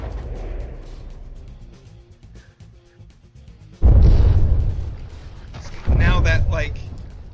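Two big explosions in From the Depths, several seconds apart, each a sudden deep roaring blast that rumbles on afterward, following a stretch of quieter ambient noise.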